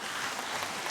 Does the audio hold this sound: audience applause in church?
yes